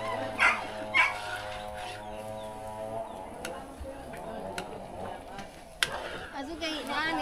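A dog barks and yips, with two sharp barks near the start followed by whimpering sounds and later bursts, heard among people talking nearby.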